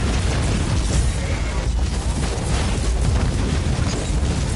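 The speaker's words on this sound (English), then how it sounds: "look at that giant fucking laser cannon I'm shooting off" A giant laser cannon fires in the Inquisitor Martyr video game during an Imperial Knight battle, a dense, roaring blast of booming noise that fills the whole stretch steadily and loudly without letup.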